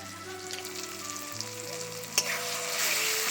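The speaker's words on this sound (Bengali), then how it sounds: "লঙ্কা, আদা, রসুনটা এখান থেকে তুলে কড়াইতে দিয়ে দিচ্ছি।" Chili, ginger and garlic hit hot oil in a wok, giving a steady close-up sizzle with a sharp spatter partway through, over a soft tonal background.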